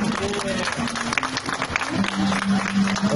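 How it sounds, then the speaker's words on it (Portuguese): An audience at a plus-size fashion show claps as a model walks the red carpet, a moderate patter of applause mixed with crowd noise and a steady hum underneath. "palmas pra Amanda!"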